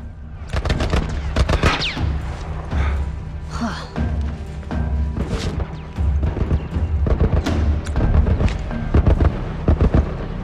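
Rapid bursts of gunfire ring out in The Last of Us, dense and irregular with sharp cracks and thuds piling up across the whole stretch, loud and near, with no talk over them.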